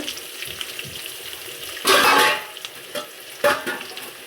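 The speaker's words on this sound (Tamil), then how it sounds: "வெங்காயம் நல்லா வதங்கிடுச்சு வரணும்." Onions with curry leaves and salt sautéed in a pan give a soft background sizzle broken by a few loud scraping stirs of the spatula, close and without talking.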